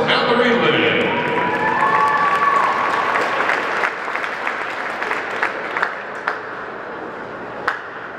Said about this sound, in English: let's have a huge round of applause for Miss Mallory Lynn.